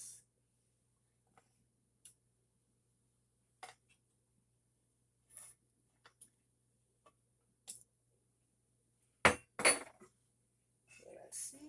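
A cassava bammy being flipped in a pan gives sparse, quiet clinks and taps of utensil against pan, separated by long silences, then a louder cluster of scraping and knocking near the end.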